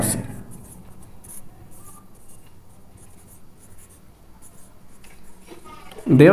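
Pen scratching on paper while a coordinate geometry problem for a triangle is solved: steady, faint, close writing strokes continue for several seconds, and a voice begins speaking at the very end.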